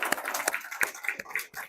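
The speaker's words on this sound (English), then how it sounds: "So I want to give you a round of applause." A small conference audience at BSides Idaho Falls gives a brief, sparse round of applause, with a handful of distinct claps ringing out over a light patter of hands nearby.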